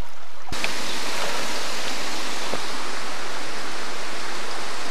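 A small waterfall at Waterbreaker's Neck with only a modest flow of water, giving a steady, broadband rushing hiss that holds constant throughout, with no voices.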